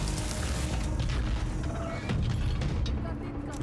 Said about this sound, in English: So we have to cut the hinges.